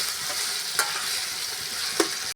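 Ingredients for a paneer cashew curry fry in a pan, giving a steady loud sizzle with two brief scrapes of a spoon stirring, then a sudden stop.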